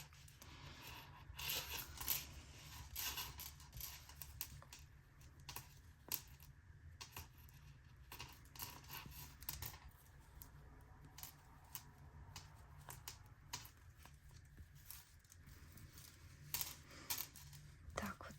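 Plastic or metal stitch markers clicking against knitting needles while a raglan sweater is knitted, with soft, irregular ticks and taps scattered throughout, faint and close. Quiet handling rustle runs underneath.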